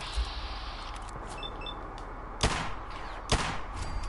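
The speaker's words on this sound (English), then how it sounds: "Thank God that second shot hit" Two sharp gunshots in Fallout 4, about a second apart, ring out over steady ambient game noise.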